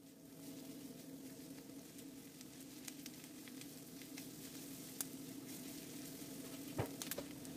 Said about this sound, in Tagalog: Isunod na igisa ang onion hanggang lumambot.